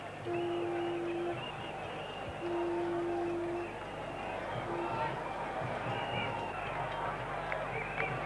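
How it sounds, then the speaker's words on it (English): Cricket crowd noise during an England batting innings: a steady, far-off roar of spectators with droning horn-like tones and low rhythmic thumping. It carries on throughout without a clear break. "the crowd have come alive, the drums are going, everybody's suddenly up on their seats"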